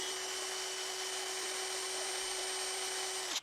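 A Fixtop 1000Nm cordless impact wrench runs in loosening mode, giving a steady, loud motor whine close up that holds evenly for a few seconds and then cuts off abruptly.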